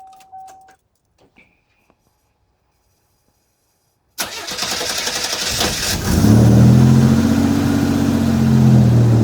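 Keys rattle faintly in a quiet G-Body car before the engine cranks and fires, then settles into a loud, steady idle close by.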